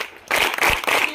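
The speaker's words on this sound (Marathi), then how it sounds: "त्यांच्यासाठी सुद्धा जोरेन टाळ्या वाजवा।" Applause for the boys' kho-kho team at a school certificate distribution ceremony, a short loud burst of clapping that starts abruptly and continues in uneven surges.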